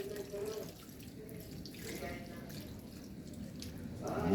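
Water pours into a cooking pot for a Filipino fish and tomato stew, a soft running and trickling stream under quiet talk, louder near the end.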